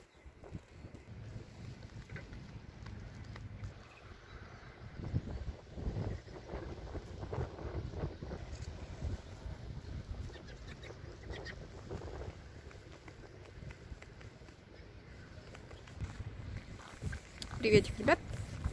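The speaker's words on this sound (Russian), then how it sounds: "Тут сильный ветер." Steady strong wind buffeting the microphone outdoors on a small island by a lake in Poland, a constant low rumble with gusts, while a person talks over it.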